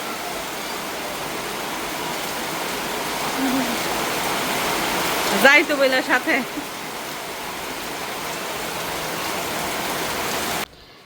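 Heavy rain pours in a constant close hiss, with a short burst of speech rising over it midway before the downpour carries on alone and cuts off abruptly.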